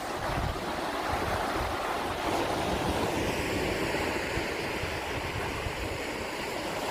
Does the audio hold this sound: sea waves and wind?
yes